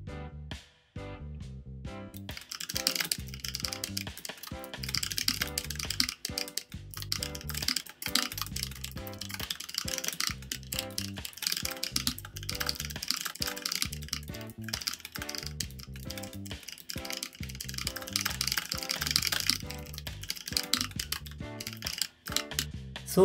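Steady, quiet clatter of a computer keyboard as someone types C program code into a command prompt window, rapid irregular keystrokes running on for over twenty seconds with no talking.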